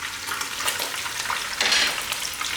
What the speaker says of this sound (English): Also going to deep fry the meat part of the pork belly.